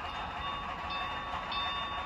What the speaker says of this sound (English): It has the very last train that's gonna run on this layout.